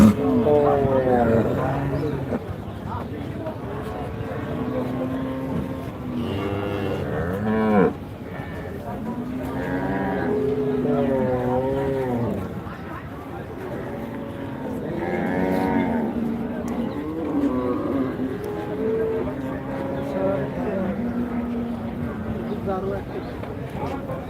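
Bulls low repeatedly at the Rajshahi city cattle market, a busy livestock sale ground, their deep calls rising loud and near above a steady crowd murmur, with people talking throughout.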